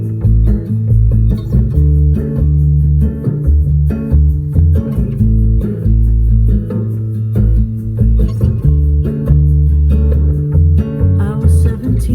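A slow, droning rock song by a band plays from a CD, loud and continuous with heavy low-end bass and drums and steady sustained tones, no talking over it.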